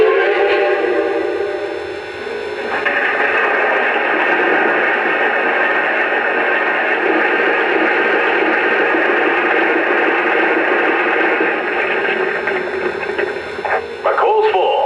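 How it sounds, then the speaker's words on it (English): A Lionel Reading T-1 toy train sounds a coal-loading effect for its tender, a loud, continuous rattling rush of falling coal lasting most of the clip, ending with brief radio-style chatter. "And here's the sound of coal being added to the tender."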